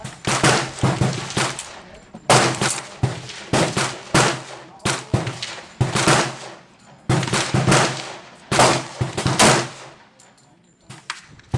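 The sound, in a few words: gunshots from a pistol firing Federal rounds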